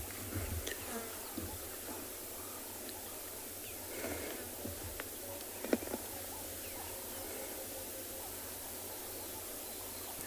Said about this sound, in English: The lovely sounds that you can hear maybe are that of the grasshoppers and I'm not sure what species it is, maybe a rain locust going in the background